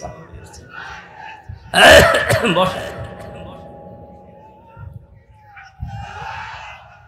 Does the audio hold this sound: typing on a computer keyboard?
no